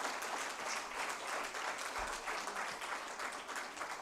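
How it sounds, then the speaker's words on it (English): A full hall at a memorial oration event breaks into dense, continuous applause, a thick roar of many hands clapping at once with no speech over it. "Can we have another huge round of applause for Mrs."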